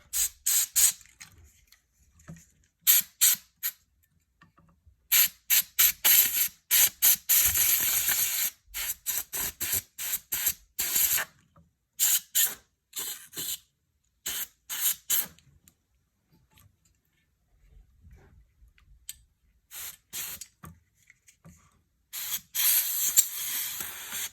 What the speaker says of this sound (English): just take the air and then just go behind the fans and just give those a little dusting too